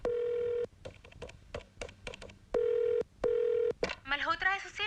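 A phone number is dialed with a series of beeping keypad tones, some long, some short, followed by warbling sounds and faint voices underneath.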